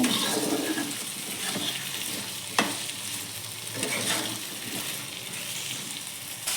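Salt being stirred into a cooking fish head and cabbage mixture, a steady sizzle with scraping spoon strokes running throughout, one sharper knock near the middle.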